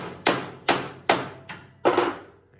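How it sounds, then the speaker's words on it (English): Five sharp hammer taps on a car body replacement panel held with vice grips during fitting, evenly spaced and close, each ringing briefly with a metallic decay, with no talking. "just go ahead and just tap this now with the hammer"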